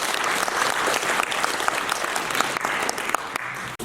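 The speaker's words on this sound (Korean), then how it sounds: "박수로 맞이해 주시죠" Audience applause at a Korean public policy forum on expanding the basic pension, a steady dense wash of clapping from a seated crowd lasting several seconds, welcoming a government official to the stage.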